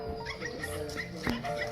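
A cartoon puppy whimpers and gives small yips over a busy musical background, with short high cries scattered through and one sharper yelp near the end.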